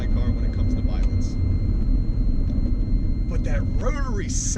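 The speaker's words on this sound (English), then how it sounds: "But that rotary sound, yo, it's fucking phenomenal." A Mazda RX7's rotary engine drones with a steady, heavy low rumble heard from inside the car while a person talks over it.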